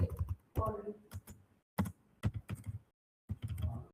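Computer keyboard keys tapped in short irregular bursts while typing SQL, close clicks separated by brief pauses.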